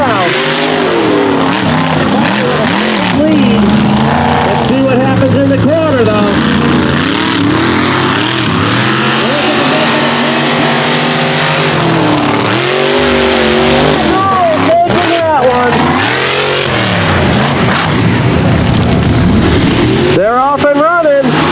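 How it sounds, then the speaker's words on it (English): Two mega trucks race through mud at an outlaw event in West Virginia, engines roaring and revving loudly with rising and falling pitch sweeps throughout, while an announcer talks over the din. "Both trucks moving right now."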